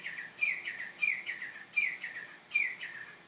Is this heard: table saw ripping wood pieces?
no